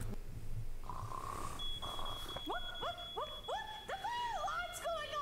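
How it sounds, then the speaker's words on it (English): An electronic alarm going off: a steady high beep tone joined by repeating rising-and-falling siren sweeps that grow busier, heard over a noisy background with faint voices. "The alarm's going off!"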